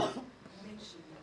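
A single short cough rings out close to the microphone at the very start, followed by a quiet room tone with faint voices during a pause in a business discussion.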